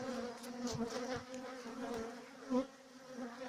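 Bees buzzing around hives at an apiary in unsettled weather, the colony agitated. A steady, fairly soft drone with a few individual insects whizzing closer past the listener.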